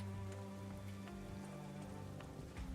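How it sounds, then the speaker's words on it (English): Steady rain falling in the NIKKE video game, a dense continuous patter with a few sharper drops, with a low background hum running throughout and no voices. "It's raining."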